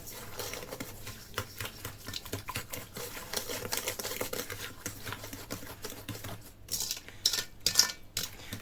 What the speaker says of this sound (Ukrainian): все це перемішую.